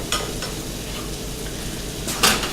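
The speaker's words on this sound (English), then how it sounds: "Use your spackle spreader to just give that a mix" A spackle spreader scrapes and stirs through a sizzling pan, with steady frying hiss underneath and a couple of sharp metallic scrapes standing out, no voices.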